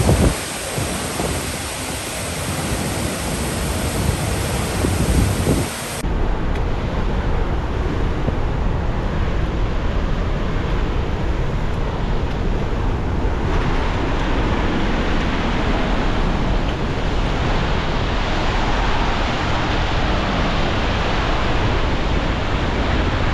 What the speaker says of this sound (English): This is as close as we can get to the waterfall.